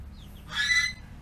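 A chicken on a farm lets out one brief, moderately loud squawk over a quiet low background.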